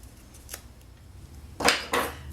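Scissors snip through excess gold thread on a paper pumpkin craft project, with one light cut followed by two crisp, close snips in a quiet room.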